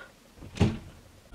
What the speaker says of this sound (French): Tu peux fermer ta porte ou pas?